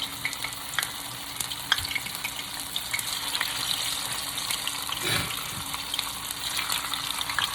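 Wet marinated tofu fries in a stainless steel pan, a dense sizzling hiss with scattered pops and scraping stirs, close and steady with a louder disturbance midway.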